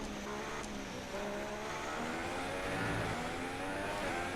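Race car engine in a racing video game, a continuous high-pitched roar climbing steadily in pitch as the car accelerates hard down a straight, loud and close with no talking.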